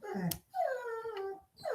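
A dog whimpering indoors at a dog on the TV, two drawn-out whiny yelps with a brief sharp sound between them, close and fairly quiet.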